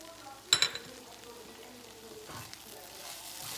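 Red chili powder, salt and coriander-cumin powder for a moong dal with spinach land in a hot pan, giving a brief clattering burst of sizzle that quickly fades into a faint, low crackle.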